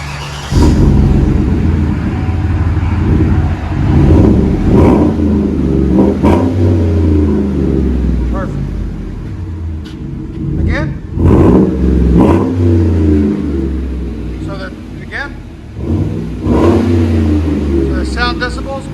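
A GMC/Chevy 5.3L V8 pickup on a budget aftermarket exhaust and muffler, revving in loud repeated bursts over a deep rumbling idle, close to the mic, with a voice speaking over parts of it.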